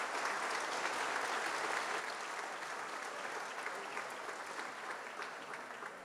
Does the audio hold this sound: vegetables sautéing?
no